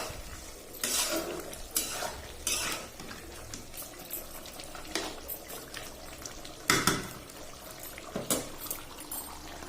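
Duck meat is stirred in a cooking pot, with a spoon scraping and clattering against the metal in irregular, fairly close strokes over a soft, steady cooking background.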